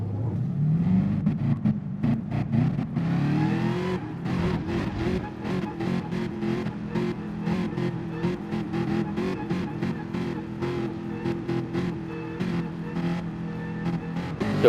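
Race cars rolling off at the start of a race in a video game: a pack of engines drones and revs steadily, with frequent gear-change dips and rising pitch under acceleration, close and continuous.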